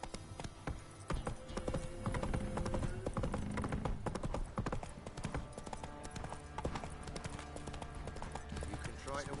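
Roach, the horse in a video game, gallops with quick, even clip-clop hoofbeats at close range and a brief whinny, while people talk over the running.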